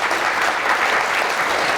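Studio audience clapping together in steady, dense applause, loud and close for a brief moment with no voices over it.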